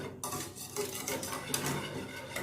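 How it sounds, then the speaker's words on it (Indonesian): Mango pudding simmering in a pot on a kitchen stove, stirred with a utensil that scrapes and clinks against the pan in a steady, close, continuous clatter with no voices. "So ini lagi masak pudingnya."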